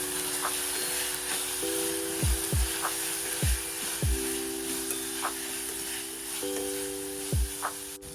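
Turmeric and crushed garlic chutney fry in a pan for a homestyle cauliflower and potato curry, a steady soft sizzle broken by several sharp spoon taps and scrapes against the pan as it is stirred, with a faint steady hum behind.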